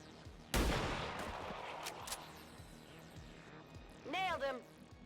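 Sniper rifle fire in XCOM 2 Long War of the Chosen, one sharp loud crack followed by a lingering echoing tail, with a voice speaking afterward.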